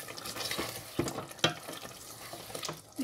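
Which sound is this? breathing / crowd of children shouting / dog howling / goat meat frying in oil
goat meat frying in oil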